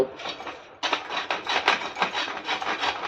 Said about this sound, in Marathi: कपड्याने पुसून झाल्याच्या नंतर ना त्यांना आपल्याला या किसणीवरती किसून घ्यायचे आहेत